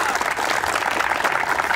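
A crowd gathered in a favela square claps in a dense, continuous round of applause that holds loud and even for the whole stretch, with no voice rising above it.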